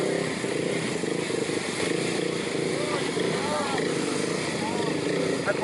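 A motorcycle in a slow-riding race at a moto event, its engine holding a steady low drone throughout, continuous and fairly close, with voices chattering faintly in the background.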